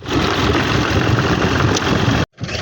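Tractor engine running close by, a loud steady chugging rumble that cuts out abruptly near the end and then resumes.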